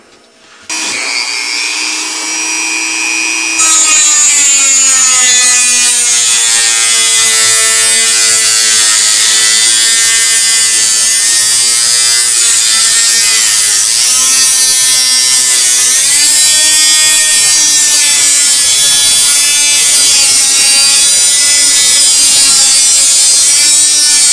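A small power cutting tool, rotary or saw-like, trims spacer dowels while installing a shifter seal gasket on a changecrank, giving a loud, steady high-pitched whine that starts briefly and holds alone for about twenty seconds.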